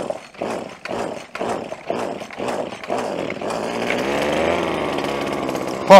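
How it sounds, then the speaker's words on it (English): A small Husqvarna combi tool engine fires up in rhythmic bursts, then settles into a continuous running buzz that holds steady to the end, close by with some background voices. "He's up and running. Get her, guys! Right, little Husqvarna combi tool."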